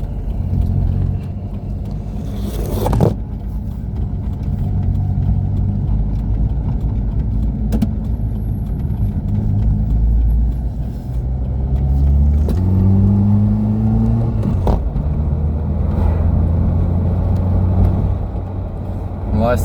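A Renault Super 5 GTR 1.2 drives along at around 50 km/h, its engine humming and rumbling close inside the cabin with occasional rises in revs and gear changes, while someone talks over it.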